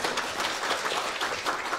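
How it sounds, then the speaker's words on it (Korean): Audience applause welcomes an award presenter at a Korean public PR awards ceremony, a steady dense wash of clapping that fills the whole short stretch without a break. "박수로 또 맞이해주시면"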